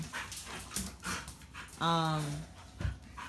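Dogo Argentino dogs at play panting close by, with quick breathy huffs, a short whimpering yelp and scuffling, soft and intermittent.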